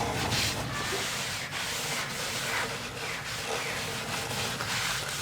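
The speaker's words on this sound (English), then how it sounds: "we'll sand this one down and get staining on it" A wooden door from a 1930s farmhouse bedroom renovation is sanded in a steady, continuous abrasive rasp that holds at an even level throughout, with no talking.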